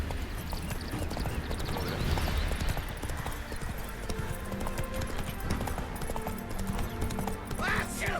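Horse hooves clip-clop steadily at a gallop in The Witcher 3, a continuous rhythmic thudding with game music and voices talking over it, ending with a brief whinny-like sound.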